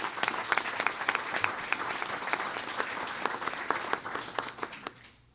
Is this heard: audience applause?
yes